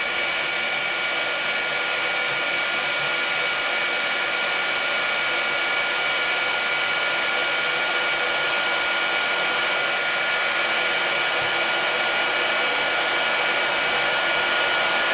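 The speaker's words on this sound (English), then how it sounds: "we're going to have a go at this with our paint gun." Heat gun blowing hot air onto a laser pointer part held in a vise, a steady, loud, unbroken whoosh that runs throughout with no talking.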